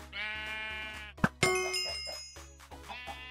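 Sheep bleating in the video game Farmhunt, a long sustained bleat followed by a second shorter one, with a sharp metallic clang or ding between them, fairly quiet overall.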